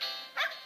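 A chihuahua in the game Nintendogs gives a short, high yip, heard close up and alone as one quick bark.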